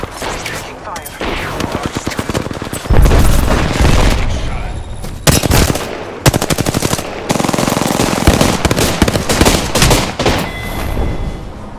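Gunfire in the Apex Legends battle royale game, loud and close: rapid automatic bursts and sharp single shots with brief gaps and booming impacts, with some voice over the action.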